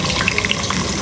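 Chopped onions sizzle steadily in hot oil in a pan, a dense continuous crackle at moderate loudness with no talking.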